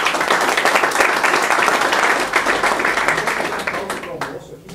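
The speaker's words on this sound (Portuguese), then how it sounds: "Mais uma salva de palmas." A round of applause from a gathered audience after a talk and question session, loud and close, with thick, continuous clapping that stays level before thinning out near the end.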